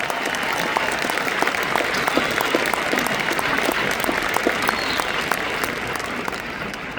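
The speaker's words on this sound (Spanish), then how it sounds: "Si usted va a aplaudir, aplauda pero bien" Applause from the audience at a church convention, a dense, steady wash of clapping hands with sharp individual claps, sustained and loud throughout with no pause.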